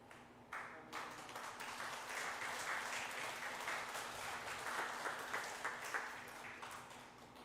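A church congregation at a Sunday morning service applauds two members for finishing reading the Bible, sustained clapping that sounds quiet and somewhat distant, swelling after a short pause at the start.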